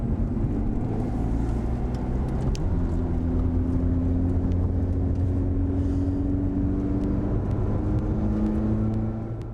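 A Ferrari 430 Scuderia engine drones steadily while driving, a constant close hum with little change in pitch throughout.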